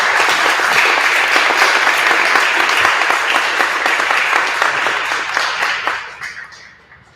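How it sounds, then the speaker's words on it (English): An audience at a mission workshop gathering breaks into loud, sustained applause, dense clapping that carries on for about six seconds before fading out. "Let's give a round of applause to all those members."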